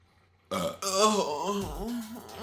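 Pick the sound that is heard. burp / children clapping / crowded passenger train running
burp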